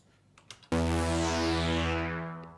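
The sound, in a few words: synthesizer preset from OB Extreme VST plugin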